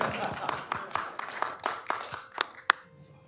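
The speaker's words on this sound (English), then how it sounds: "Sure, applause." Scattered applause at a county commission meeting: a few people clap unevenly in a room, the claps thinning out after about three seconds.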